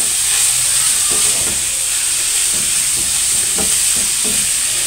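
A chicken mixture fries in a pan with a loud, constant hiss and sizzle, broken by occasional soft clicks and stirring sounds.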